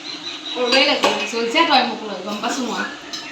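Dishes and cutlery clinking and clattering in a sink while a voice talks over the washing, close and continuous.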